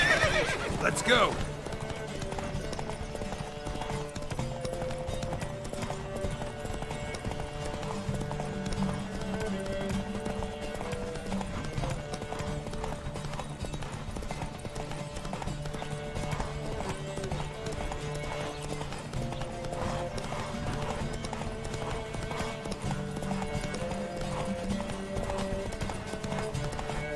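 Horses gallop in a race in The Witcher 3, with steady clip-clop hoofbeats and whinnies over continuous game music, and voices talk over it near the start.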